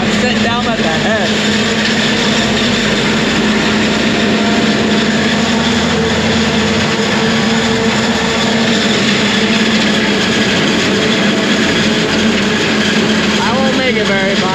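An International DT466 truck engine drones steadily and loudly while hauling a load of corn, with a constant hum and rumble throughout and voices over it.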